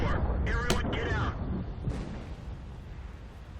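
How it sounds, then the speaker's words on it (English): An enemy artillery shell strikes near the player's AMX 50 100 tank in World of Tanks on the Sand River map: a heavy, booming blast opens loud, then a rumbling, roaring decay fades slowly, with a voice over the top. "I got killed by the enemy artillery, who I was looking for"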